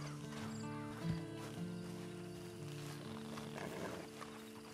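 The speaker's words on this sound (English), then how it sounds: "Then you better get on this horse." A horse in the video game Red Dead Redemption 2 gives a short neigh with hoof clops, heard faintly beneath a steady musical drone and background game ambience.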